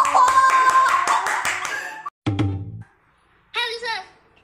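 Several quick hand claps in a row, close and sharp, over background music, followed by a short pause and people talking.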